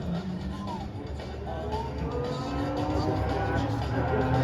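Old racing cars, including a 2.6-litre six-cylinder Zephyr, thunder up Aberdeen Street in Albany during a classic street race, their engines a steady, continuous roar heard from a distance under faint crowd noise.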